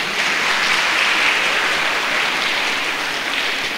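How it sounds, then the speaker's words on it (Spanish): Loud, steady applause from a church congregation fills the space, a dense even clapping that holds without pause throughout. "Vamos a recibir con fuertes palmas."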